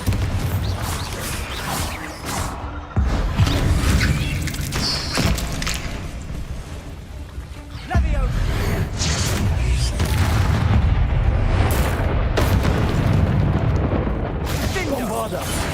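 A Bombarda blasting spell explodes in Hogwarts Legacy, giving deep booming crashes with a sharp jump in loudness near the three- and eight-second marks, followed by rumbling debris and sustained low roar under the game's ambience.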